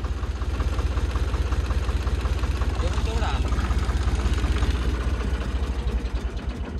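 A tractor engine runs close by with a steady low rumbling idle and rhythmic knocking throughout, while people talk over it.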